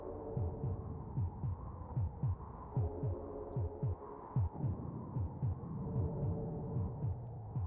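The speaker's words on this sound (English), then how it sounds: "Let me guess, you need more than a heartbeat?" Heartbeat soundtrack from the SNES game Populous: a steady, low thudding pulse of paired beats repeating about twice a second over a soft droning hum, with no talking.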